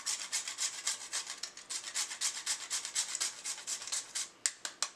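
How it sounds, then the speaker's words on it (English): Fresh nutmeg grated by hand for a peach cobbler filling, a steady run of quick, close, dry rasping strokes that ends in a few sharper separate scrapes. "to this I am grating just a piece of fresh nutmeg"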